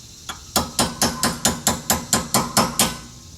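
Chisel struck repeatedly with a hammer around the rear hub dust cap of a 2006 Honda Accord, about eleven sharp, evenly spaced metallic blows in quick succession, loud and close.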